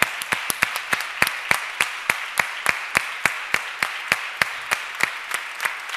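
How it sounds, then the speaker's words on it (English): Sparse, evenly spaced claps ring out one after another, a small handful of people clapping in a steady rhythm at a women-in-tech event. "An applause."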